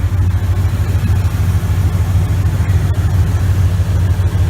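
A Ford E350 Super Duty van's 5.4-liter V8 running with a modified exhaust, catalytic converter and K&N air intake, giving a loud steady low rumble at idle that holds constant throughout, close by.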